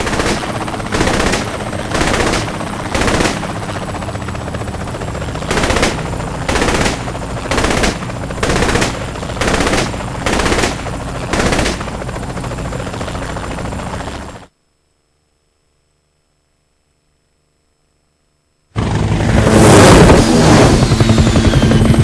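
Loud bursts of automatic gunfire from the Saints Row: The Third video game, about a dozen rapid volleys in regular rhythm over a steady engine drone, then a few seconds of total silence before a dense burst of shooting resumes.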